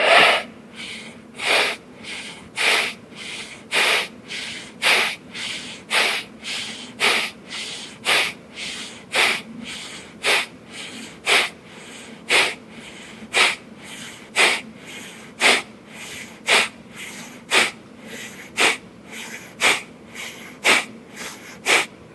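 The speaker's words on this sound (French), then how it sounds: "expirer sur 1 seconde, une respiration abdominale uniquement pour vraiment se réchauffer et activer ce transverse" Forceful abdominal exhalations during a yoga breathing exercise, about twenty-five short sharp nasal bursts at a steady rhythm of roughly one per second, close and loud, with no talking.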